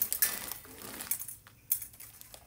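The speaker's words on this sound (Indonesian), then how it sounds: "mie nya ini harus kita potong dulu ya" Dry noodles being cut in a home kitchen for bakso: a handful of sharp, brittle crunches and clicks in quick, uneven succession, close and fairly quiet.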